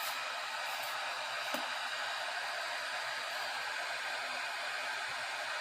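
A hot air tool blows steadily over a circuit board in an LG stereo repair, a constant close hiss of airflow with a faint click partway through, no speech.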